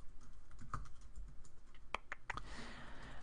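Sparse keystrokes on a computer keyboard as code is typed, a few scattered soft clicks close by in a quiet room, with no voices.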